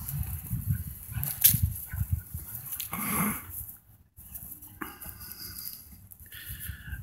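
Dogs at a kennel, close and lively, with whimpers, growls and scuffling, plus clanks and rattles from the kennel in between.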